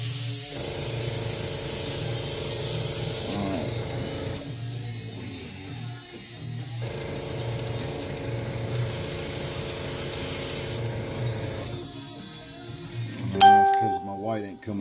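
An airbrush sprays paint over rivets with a steady close hiss, broken into long bursts separated by short pauses, and a brief voice near the end.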